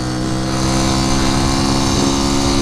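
A 1973 Honda C90 motorcycle engine pulling through the gears on a ride, a loud, close, steady droning hum that rises gently in pitch as it accelerates.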